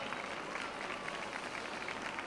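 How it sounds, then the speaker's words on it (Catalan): Steady crowd applause at a welcoming reception for the Three Kings, a dense, even wash of many hands clapping at moderate distance. "Fort aplaudiment, sisplau!"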